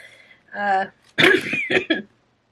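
A person clears their throat and coughs a few times in quick succession, close and fairly loud, with a short rough hum before the coughs.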